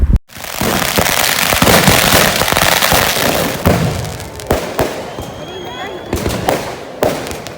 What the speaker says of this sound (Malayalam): നമ്മുടെ ഇവിടെ വെടിക്കെട്ട് സ്റ്റാർട്ട് ചെയ്തിട്ടുണ്ടായിരുന്നു